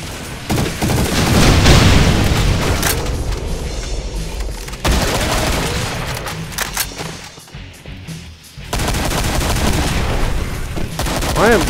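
Rapid gunfire from the Project Brutality mod for Brutal Doom, loud bursts of shots and booming blasts coming in quick succession, with some breaks and shifts in the barrage.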